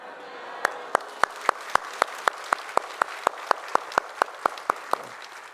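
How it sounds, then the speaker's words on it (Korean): A church congregation claps in unison while praising, a steady, evenly spaced beat of sharp group claps, roughly three per second, over a soft room murmur. "우리 찬양하고 박수 치도록 하겠습니다"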